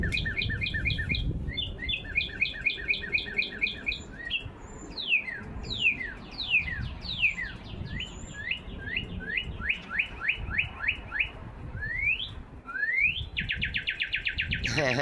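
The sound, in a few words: real birds chirping and singing outdoors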